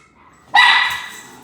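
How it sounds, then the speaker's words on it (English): A single sharp dog bark, loud and close, rising abruptly from near silence and then fading into a brief tail. "So sorry about the barking."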